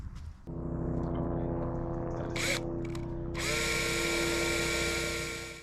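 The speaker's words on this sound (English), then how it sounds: "We've set our pilot holes, so yeah, just time to drill more holes." An electric drill bores holes into the bodywork of an R53 Mini Cooper S to mount a large MGC rear wing, its motor whining steadily and close, with pitch shifts as it bites into the metal.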